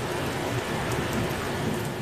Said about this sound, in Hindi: सहराए थर के मुख्तलिफ इलाकों में मूसलाधार बारिश हुई।